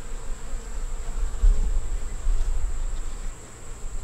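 Honeybees busy on hive frames, a soft steady buzzing hum with a thin constant whine above it, moderately close and unbroken, with no talking.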